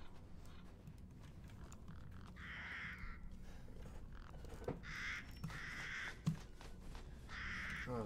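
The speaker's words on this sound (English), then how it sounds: "Oh, just birds, okay." Crows in the Resident Evil 8 game world caw in three harsh, drawn-out bursts spaced a couple of seconds apart, fairly distant over a low ambient hum, with a faint creak in between.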